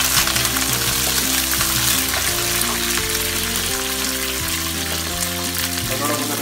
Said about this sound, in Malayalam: അപ്പോൾ നമ്മൾ red chilli, കർലീസ്, garlic, green chilli എന്നിവ ആഡ് ചെയ്യുക.